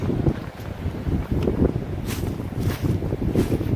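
Strong wind blowing across an outdoor microphone near a shop, a continuous low rumbling buffet with gusting surges and no voices heard.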